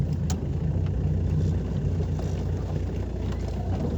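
A Renault 11 Turbo engine runs steadily, a low continuous rumble heard close by with a few faint clicks on top.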